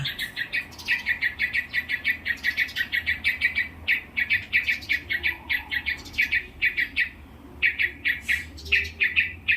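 Birds calling near their nest, a male swooping down as a pair defends its young, with rapid repeated sharp chirps in steady bursts, loud and close over a low outdoor background, no talk.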